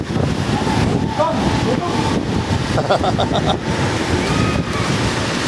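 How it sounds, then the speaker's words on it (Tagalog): Steady roaring gusts buffet the microphone, with surf-like rushing underneath and faint voices partly buried in the noise. "Lakas pala ba ng hangin dito, no?"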